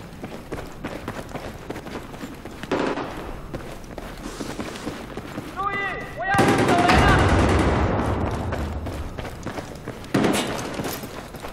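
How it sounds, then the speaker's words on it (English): Gunfire in Battlefield 4 multiplayer team deathmatch on Operation Locker, a sudden loud burst of shooting and an explosive blast midway, with running footsteps, scattered game noise and faint voices around it. "It's impossible to shoot someone with this fucking shotgun."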